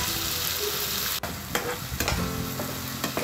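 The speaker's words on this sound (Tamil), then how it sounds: "இந்த மாதிரி நல்லா கிளறி விட்டுக்கோங்க" Prawns fry with masala in oil in a kadai, sizzling steadily while a spoon scrapes and stirs with a few sharp knocks against the pan.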